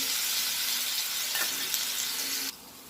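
Mustard seeds, cumin, chopped green chili and garlic sizzle in hot oil over low flame for an eggplant-potato vegetable dish, a steady dense frying hiss throughout that drops off sharply near the end.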